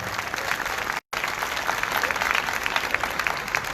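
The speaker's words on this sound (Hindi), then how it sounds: "तो तीनों क्वायर्स के लिए हम भरपूर तालियां बजाते हैं।" At a holy mass led by Bishop Joseph Arshad, a church congregation applauds three choirs with loud, dense, sustained clapping that briefly cuts out before continuing.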